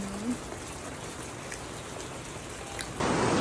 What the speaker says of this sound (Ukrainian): У нас такий дощ лиє, що це просто капець.